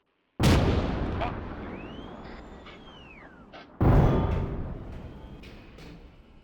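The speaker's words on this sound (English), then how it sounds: "What is this tank battle that's happening?" Two heavy tank cannon blasts in an Arma 3 tank battle, each a sudden loud boom followed by a long rumbling decay, the second arriving a few seconds after the first.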